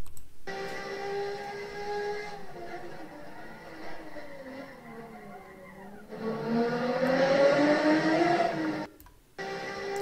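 A Ferrari Formula 1 race car engine screams on track, its pitch rising and falling through gear changes, then surging loud before a brief cut, heard alone without talk.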